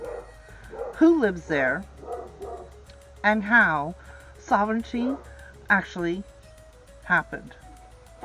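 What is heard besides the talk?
dog barking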